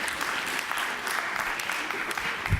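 Debate audience at a culture forum in Avignon breaking into sustained applause, a dense steady wash of clapping from a large crowd throughout, with no talk over it.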